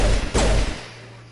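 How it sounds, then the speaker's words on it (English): A pistol shot in Mass Effect cracks out loud and close, a sharp broadband burst near the start and a second heavier blast with a booming tail, then the sound fades to a low hum. "I like how you just open fire on anything in this game"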